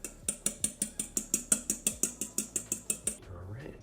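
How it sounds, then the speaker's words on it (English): A fork whisking an egg in a bowl, heard as about fifteen quick, evenly spaced clinks of metal against the bowl, close and fairly quiet, stopping abruptly near the end. "the first thing we're going to do is crack our egg into the bowl, and then we're going to whisk this with our fork"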